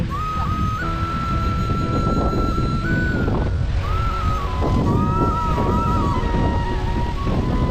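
Sea waves and wind roll steadily at Shiroda Beach in Sindhudurg, Konkan, at sunset, a continuous loud rushing wash with blustery gusts hitting the microphone and a thin tone drifting faintly in the background.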